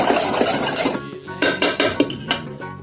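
A whisk clatters against a bowl while cake ingredients dissolve, giving a continuous metallic scraping first and then several separate clinks and taps, close and fairly loud, with no talking.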